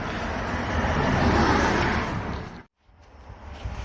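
Continuous roar of traffic on a busy main road, loud and steady, swelling as vehicles pass and then dropping out abruptly near the end before resuming more quietly.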